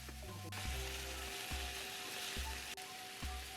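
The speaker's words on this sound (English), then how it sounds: "Stir fry the pieces of chicken breast with thinly cut onions" Chicken breast pieces and thinly cut onions stir-frying in a pan give a steady close sizzle, with a few soft scrapes or stirs breaking in at regular intervals.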